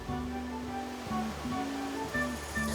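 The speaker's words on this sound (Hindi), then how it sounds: "इन झरनों की मधुर आवाज जैसे कोई पुराने गीत गुनगुना रहा हो।" Waterfalls streaming down a grassy mountainside on the Neelkanth trek near Badrinath make a soft, steady rush, heard faintly beneath sustained musical tones.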